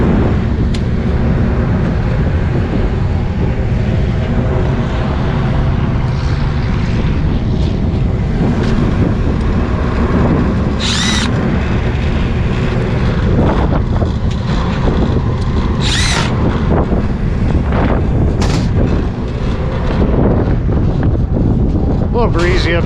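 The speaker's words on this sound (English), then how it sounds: "A little breezy up here today." Strong gusty wind buffets the microphone on a rooftop beside a rooftop HVAC unit, a loud continuous roar with brief higher whooshes and no talk.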